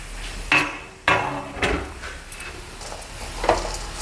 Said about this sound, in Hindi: अब मैं इसमें सारे सीड्स डाल दूंगी, और जो भी ड्राई फ्रूट थे वो सारे मैं इसमें मिक्स कर दूंगी